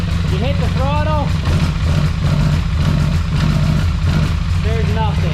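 A broken-down Polaris Sportsman 850 XP ATV engine idles steadily and does not respond to throttle, a constant mid-low engine drone running through the whole stretch, with a voice talking over it.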